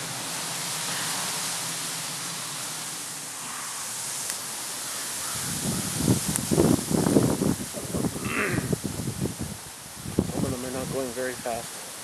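A breezy gust of wind rushes past small wind turbines outdoors, a broad hissing whoosh that builds and swells, with voices talking over the latter half.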